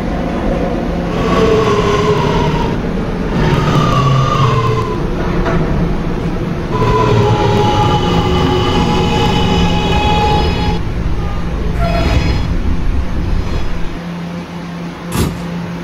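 An R211A subway car on the E line runs steadily and loudly, wheels rumbling on the rails with whining motor tones that rise and fall, and a sharp clank near the end; no one speaks.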